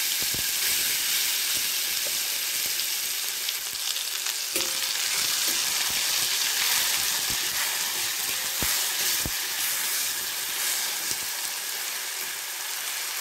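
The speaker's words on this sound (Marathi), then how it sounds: "तेल सुटेपर्यंत मसाला हा परतवून घ्यायचा।" Ground spice paste (masala) with fenugreek seeds and curry leaves sautéing in hot oil, a loud, steady sizzle and crackle throughout with occasional sharp pops and scraping stirs, no voices.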